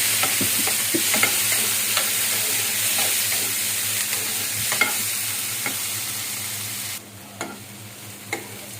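Tomatoes soften in a pan of sunflower oil for cauliflower stem chutney, sizzling steadily up close while a spoon scrapes and stirs in a loose rhythm of soft knocks; no voices.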